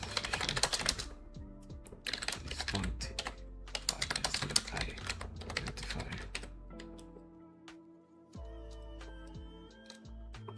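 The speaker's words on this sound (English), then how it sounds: "I'm just using a random keyboard. It's called the AZA 8 ZZA." Keys clack rapidly on a computer keyboard, an AZA 8 ZZA, during coding work on a RISC-V emulator in C++, with close, dense bursts of typing, brief pauses and lighter scattered keystrokes toward the end.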